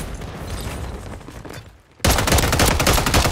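Gunfire from the Core 45 in Warzone 3 cuts in abruptly after a dip, loud rapid shots crackling up close over ongoing game ambience.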